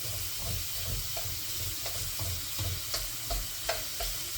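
Onions frying for an Indian curry as a spoon breaks them up, giving a steady close sizzle with regular scraping strokes against the pan roughly every half second.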